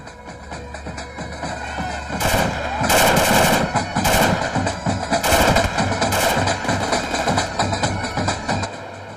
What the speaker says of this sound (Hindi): हम फायरिंग करता है।